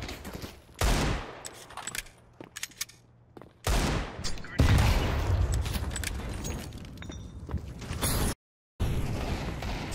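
Bursts of rapid gunfire crackle in loud clusters, with sharp pops and short pauses between volleys, like a shooting game's battle.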